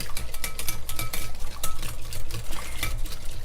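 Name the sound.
stirring yogurt into egg mixture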